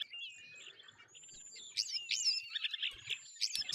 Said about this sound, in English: you can like kind of hear bird calls and stuff